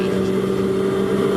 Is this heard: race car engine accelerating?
yes